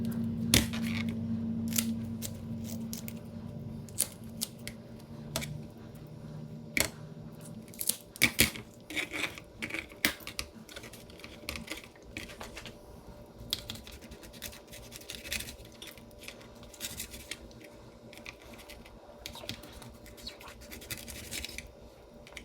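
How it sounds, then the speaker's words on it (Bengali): Pomfret fish being cut into pieces makes a long run of close, sharp clicks, taps and scraping strokes in uneven bursts, some louder than others, with a low hum at the start and no talking. "প্রথমে পমফ্রেট মাছটা কাটা হচ্ছে"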